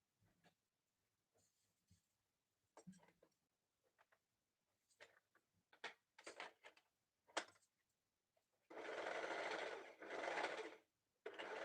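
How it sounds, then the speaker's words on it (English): An overlock sewing machine stitches fabric for a turban, starting with faint scattered handling taps and then running in two short, steady whirring bursts near the end, fairly quiet and close. "I'm gonna overlock just that space for now"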